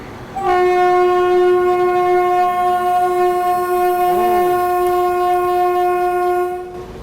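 A train on an Indian branch line pulls away from a station, sounding a loud, sustained horn blast lasting several seconds, close by and steady, with a brief wavering dip in pitch partway through.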